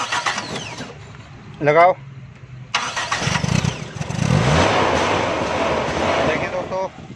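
A car's self-starter motor cranks in short bursts, the engine catches and revs up to a loud, steady run, with someone speaking briefly at the start.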